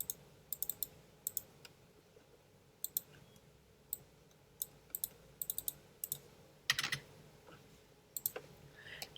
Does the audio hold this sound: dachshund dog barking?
no